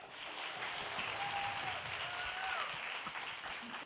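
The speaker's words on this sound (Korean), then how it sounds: "여러분 큰 박수 부탁드립니다" An audience of students at a university-admissions talk concert claps for guest lecturers. The applause is sustained and even throughout, moderately loud from a hall crowd.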